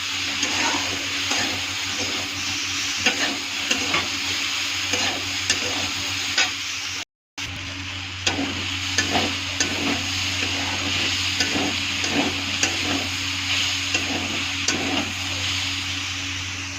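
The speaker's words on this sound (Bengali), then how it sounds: "দুটাই একসাথে ভালো করে মিক্স করবো।" Sliced okra being mixed and fried in a pan, a steady dense sizzle with a low hum underneath and repeated rhythmic scraping strokes of a spatula, briefly cutting out for a moment before resuming, no one speaking.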